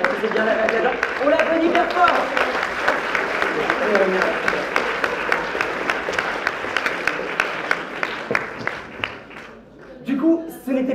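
Audience applause fills a mentalism stage show, a dense, steady wash of many hands clapping that carries on loudly for several seconds before thinning into scattered claps and a few voices near the end.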